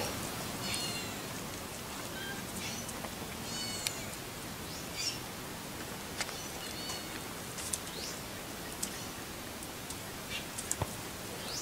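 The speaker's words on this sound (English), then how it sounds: "Cats are even coming up for a little bit." Cats gather for food outdoors, giving a few faint high meows and short cries over a steady rustling ambient background, with scattered small clicks and no clear talking.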